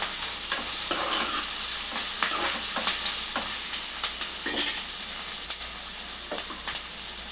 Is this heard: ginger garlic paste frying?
yes